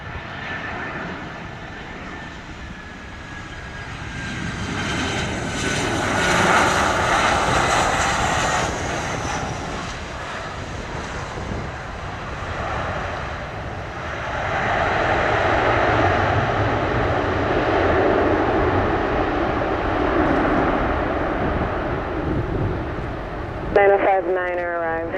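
Jet engines of an American Airlines airliner at Montego Bay airport in Jamaica, a loud sustained roar that swells and fades as the plane passes, with radio chatter over it.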